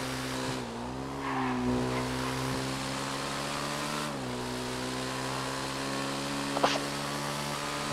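A motorcycle in the video game GTA 5 rides steadily with an even engine drone that dips and rises slightly as it shifts, plus a brief sharp knock near the end; no talk.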